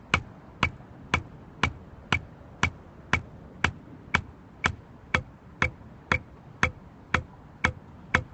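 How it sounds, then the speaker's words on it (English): Metronome clicking steadily on the beat during a timing exercise: about sixteen evenly spaced sharp ticks, crisp and close, over a faint background with no talking. "First, I'm going to try my best to play right with the metronome."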